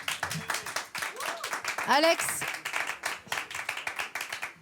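Intimate concert audience clapping for a singer, rapid claps near and clear, with voices and a brief shout rising through the middle.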